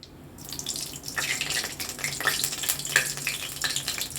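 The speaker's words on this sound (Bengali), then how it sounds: "সাদা সর্ষে আর কারি পাতা ফোড়ন আমি দিয়ে দিয়েছি। ফাটছে ভীষণ।" Mustard seeds and curry leaves crackling in hot oil in a wok for sooji upma, a dense, continuous spitting crackle with sharper pops throughout.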